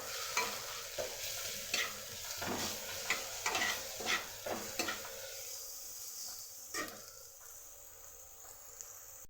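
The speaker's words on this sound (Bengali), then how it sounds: "রসুনটাও একটু ভালো করে ভেজে নেব।" Crushed garlic fries in hot oil with green chilli and onion, giving a quiet, continuous sizzle broken by a series of sharp scraping stirs from a spoon against the pan, which fade toward the end.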